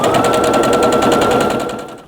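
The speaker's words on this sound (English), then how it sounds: "I'm gonna stitch 3 forward, 3 back, making sure not to go beyond that plus" A sewing machine runs steadily and loudly at close range while stitching a mitered quilt border, its rapid needle chatter continuing for about two seconds before easing off at the end.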